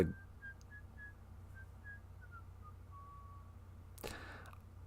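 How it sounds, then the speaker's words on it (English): Gargoyles in the video game Ultima IX whistle a tune, a faint string of melodic notes over a low steady hum, with a short burst of noise near the end. "the gargoyles are given all the same sounds as humans, so they hum and whistle "Hail Britannia,""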